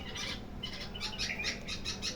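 High, thin chirps repeat in quick bursts from birds at a small nest, fairly close, over a low steady background hum.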